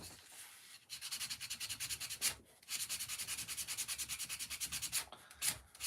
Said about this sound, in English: sand this off. Just to bring some fresh grain down.